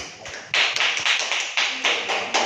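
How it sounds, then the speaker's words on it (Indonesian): Classroom applause for students who have just presented, a burst of many hands clapping together at a steady rhythm, close and loud with no talk over it. "Tolong semuanya beri aplaus kepada teman-temannya."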